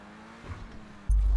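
A car in GTA 5 makes a stunt jump, with a low engine hum that builds quietly and then a sudden loud, heavy rumble near the end.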